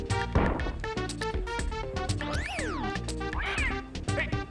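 Cats thrown in The Mask on SNES yowl and meow in cartoonish, pitch-sliding cries, mixed with repeated smacking impacts and bouncy game sound effects in a busy, loud sequence.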